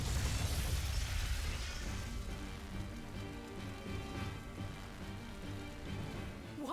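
A loud explosion of flamestone, sulfur and oil in the video game Tales of Berseria, with a heavy boom and crackling burst up front that decays into a rumbling tail under game music.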